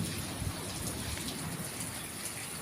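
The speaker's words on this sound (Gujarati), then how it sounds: "વીજળીના કડાકા ભડાકા છે વરસાદ પવન એ પણ ફૂલ પવન છે" Steady rain pours down with gusting strong wind during a thunderstorm, a dense, continuous rushing hiss with a low rumble beneath it.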